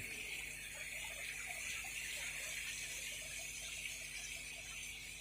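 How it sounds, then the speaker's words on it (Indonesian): Clear spring water pours steadily at a mountain hermitage shrine, giving a continuous, even splashing rush with no breaks. "ini disinilah ini sumber mata airnya, sangat jernih"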